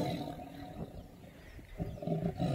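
Cranky house cats producing low, rough growls that sound almost like a tiger's moo, faint and intermittent, with grumbling bursts swelling near the end.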